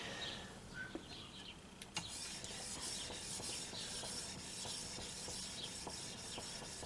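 A fillet knife blade is hand-sanded with abrasive grit after heat treatment, giving a faint, close scratchy rubbing in regular back-and-forth strokes, quiet and alone.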